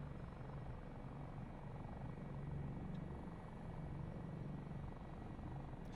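A helicopter in a flight simulator game gives off a steady, low rotor and engine drone, continuous and unchanging at moderate level with no talk.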